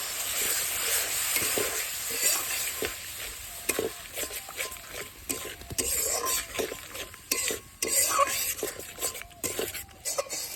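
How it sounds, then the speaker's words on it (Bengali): A spice paste of turmeric and chili powder with a little water sizzles and fries in a pan while being stirred, with close scraping strokes and clinks over a continuous crackle, plus a brief cough. "হলুদ, লঙ্কার গুঁড়া, অল্প না জল দিয়ে মশলাটা ভালো করে কষে নিই"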